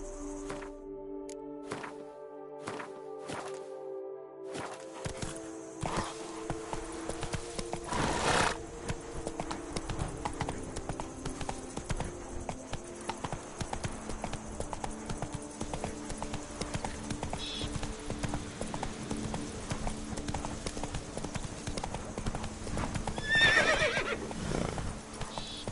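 Hooves of the horse Roach clip-clopping in The Witcher 3 Blood and Wine, a steady trotting patter that begins after a few seconds of music, with a whinny near the end.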